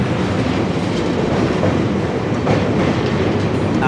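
The 15722 Paharia Express, a Howrah to Digha train with new LHB coaches, runs along the track with a loud, continuous close rumble and faint rail clatter throughout.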